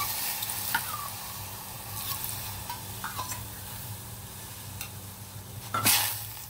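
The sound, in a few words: soaked sago and water being added to a pot on the stove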